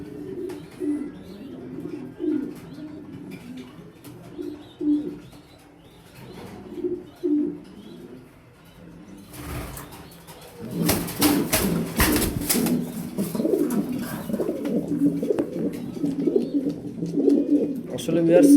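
Pigeons in a loft in Mirpur, Dhaka, where chicks have hatched, give repeated low cooing phrases, with a burst of wing flapping and rustling midway and someone talking at times.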